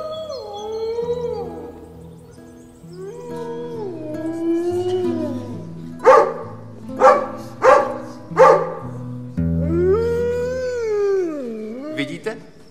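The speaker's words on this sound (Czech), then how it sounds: "Naučil jsem psa zpívat." A dog taught to sing in a fairy-tale film, with long wavering howls rising and falling, four short sharp barks in the middle, then another drawn-out howl.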